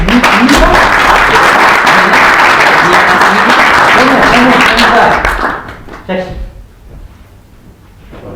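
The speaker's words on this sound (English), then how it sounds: "Round of applause for you." A crowd at a spiritual talk on happiness gives a volunteer a round of applause, loud dense clapping for about five seconds that then fades out, with a few scattered claps and voices after.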